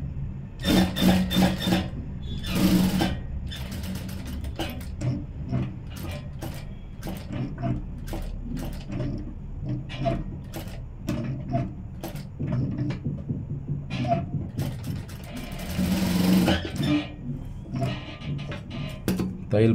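A sewing machine runs in short bursts while a collar kurti is stitched, whirring runs broken by pauses and small mechanical clicks and handling sounds, fairly close.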